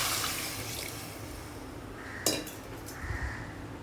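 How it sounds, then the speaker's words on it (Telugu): Water poured from glasses into a pressure cooker holding rice and lentils for muddha pappannam, a steady splashing wash with a sharper clatter about midway, no voices. "4 గ్లాసులు నీళ్లు పోసేసుకుందాం."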